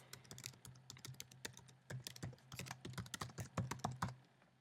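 Fingers type an email address on a computer keyboard, a quiet run of close, quick key clicks in uneven bursts, growing denser toward the end.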